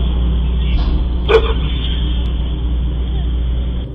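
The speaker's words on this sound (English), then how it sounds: "The dog even barked" A single sharp dog bark rings out once, captured by a home security camera at a house beside a road in Minnesota, over a constant low hum of passing traffic.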